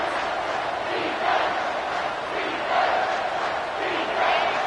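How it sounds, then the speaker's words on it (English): A home crowd at a football game roars and cheers as the defense tries to get off the field on third down, a dense steady wash of voices that swells in waves, heard from a distance. "Here comes this home crowd as the defense tries to get off the field on third down."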